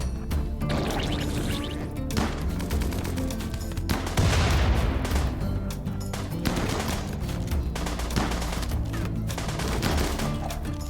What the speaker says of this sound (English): Oh god, it's a machine pistol.